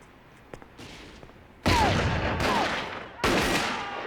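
Gunfire in a TV show scene: three loud, sharp gunshot bursts at roughly even intervals, each ringing out with a ricochet-like whine and decaying echo, following a quieter stretch with a few faint clicks.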